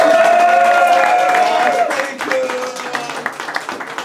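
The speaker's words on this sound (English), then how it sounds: "give me a round of applause, ladies and gentlemen" Applause with scattered cheers and whistles from a comedy club crowd at a roast battle in Berlin, loud and close, fading unevenly toward the end while voices carry over it.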